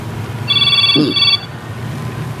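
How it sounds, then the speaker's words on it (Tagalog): A cellphone ringtone sounds close by for about a second as a bright electronic ring over a low background hum, with a brief voice heard alongside it. "Aguray ka, agriring ti cellphone ko."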